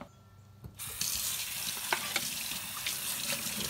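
Tap water runs steadily over Keurig K-Elite parts being rinsed in a sink, starting after a short quiet moment, with occasional splashes and clinks of plastic under the flow.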